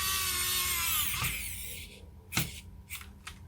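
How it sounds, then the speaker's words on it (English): Electric screwdriver driving screws back into an original Nintendo Game Boy case, a close whirring buzz for about two seconds followed by a few short bursts of spinning. "let's put some covers down and get all of these screws back in"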